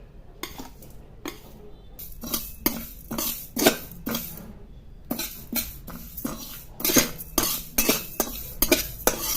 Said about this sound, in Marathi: जवस हे थोडे परतून घ्यायचे